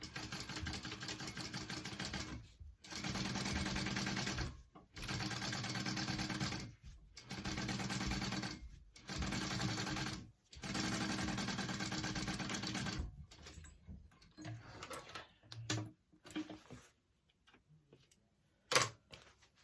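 A sewing machine runs top stitching along the band of a clutch bag in several steady bursts separated by short pauses, followed by quieter handling sounds and a sharp click near the end.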